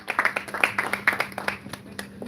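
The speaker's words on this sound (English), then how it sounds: "Please a round of applause" Scattered clapping from a small audience at a panel session, a handful of distinct, close hand claps that pulse unevenly and fade out within a couple of seconds.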